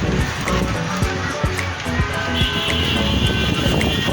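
A DEFENDER KTH-2986 16-inch AC/DC fan running close by with a loud, steady whooshing hum and faint clicks as its speed is changed by remote, with no talk.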